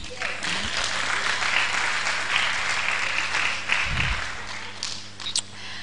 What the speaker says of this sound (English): So, clap for us.